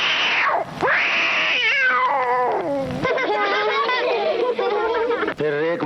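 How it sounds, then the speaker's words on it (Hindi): A kitten in a basket meows in a long, wavering, drawn-out series of cries that rise and fall. The calls are loud and close, with no talk over them. "टोकरी में एक बिल्ली का बच्चा"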